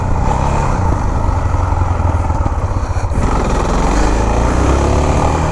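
A motorcycle engine strains close by during a sideways wheelie, a loud continuous drone that dips briefly and then climbs again in pitch.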